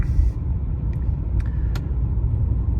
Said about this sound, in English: let's take it for a little cruise so we can at least verify our odometer is working